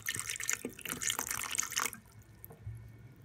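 A small amount of water splashes and trickles into a blender jar for about two seconds, then fades into quiet; the sound is soft and close.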